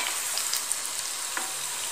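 Onion bhaji made with gram flour batter fry in hot oil over low heat, giving a steady, dense sizzle and crackle that fills the whole moment with no voices.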